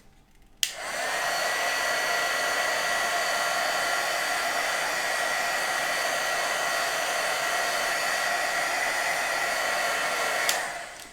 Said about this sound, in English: I'm grabbing my heat tool here so I can just heat this background up.